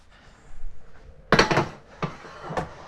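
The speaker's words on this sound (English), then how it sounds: "we're going to put that onto the rack, back into the pan" Roast beef on a metal rack set back into a pan: a soft scrape, then a sharp metallic clatter, followed by two lighter clinks, close and alone with no talk.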